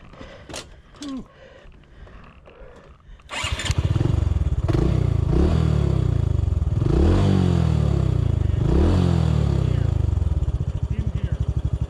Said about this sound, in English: The engine's making all sorts of metal noise.